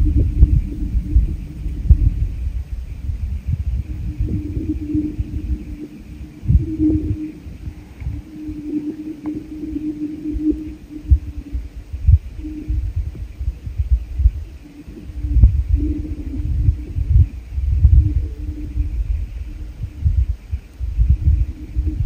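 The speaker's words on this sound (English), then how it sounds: "the ice on the lake was making the most phenomenal noise" Lake ice in remote Alaska booming and groaning, a continuous deep rumbling throb with low moaning, whale-like tones and occasional sharper cracks, swelling and fading over about twenty seconds with no voices.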